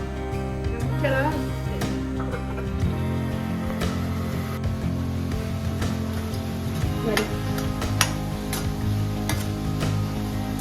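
Chopped bitter gourd frying in a pan gives a steady sizzle with scattered ticks and scrapes from stirring, close and continuous.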